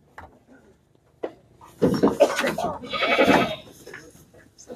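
A goat being taken for Qurbani sacrifice bleats nearby in a couple of wavering, nasal cries, with some quieter shuffling and faint voices before them.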